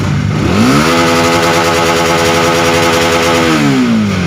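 A motorcycle with a stock, unremapped ECU held against its rev limiter, the engine climbing quickly then droning loud and steady at the cutoff before dropping away near the end, no talking.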